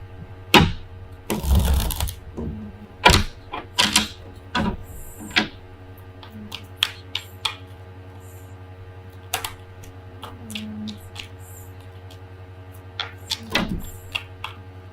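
Tarot cards that spilled out are gathered up and pushed back into the deck, giving sharp, irregular close-up clicks and shuffling taps, busiest early and then sparser, with no speech.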